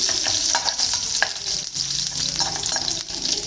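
Dried red chillies in hot oil tempering for tomato rasam, a continuous close sizzle and crackle with occasional stirring scrapes, no talking.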